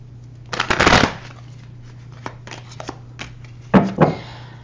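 Tarot cards are riffled and shuffled close to the microphone, a long rustling burst followed by scattered taps and two shorter shuffles, with a low steady hum beneath.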